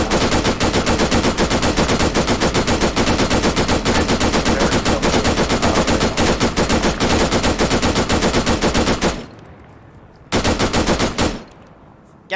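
Machine gun fire in Arma 3: a loud, sustained rapid stream of close shots running about nine seconds, a short pause, then one more brief burst before it stops.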